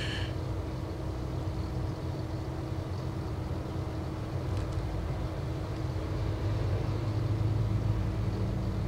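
Steady low hum of cars passing outside a camper van fitted with a heat pump, a faint, continuous distant traffic drone with no talk.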